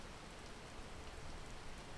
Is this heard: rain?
yes